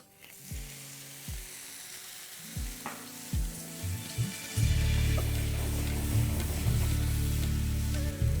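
Chopped tomatoes land in a pan of browned onions over a high flame, with a few soft knocks and stirring taps giving way to a loud, continuous sizzle of frying.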